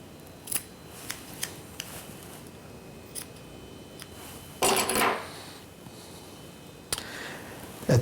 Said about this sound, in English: Now using a finer pair of scissors, I'll start my final trimming.